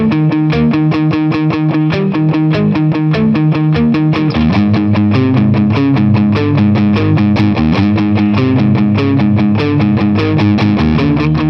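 A Gibson Les Paul Standard electric guitar on its middle pickup position plays a dense, continuous distorted riff, steady and loud with fast picked notes and no voices.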